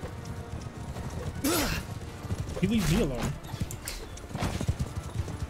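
Horses in a Mount & Blade battle clatter and whinny amid combat noise, with two wavering neighs standing out near the middle, while someone speaks over the action.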